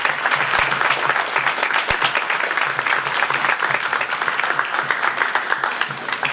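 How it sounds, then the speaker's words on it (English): A crowd applauds at a school startup pitch competition, steady dense clapping that stays loud and even throughout. "Please give them a round of applause."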